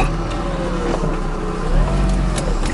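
A car's engine idles steadily just after starting, before pulling away on a hill road in India; a continuous low rumble sits close and fairly loud, with no talk over it.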